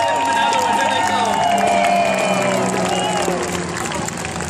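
A large crowd applauds and cheers in a steady, dense roar, with voices mixed in and a tonal rumble sweeping underneath.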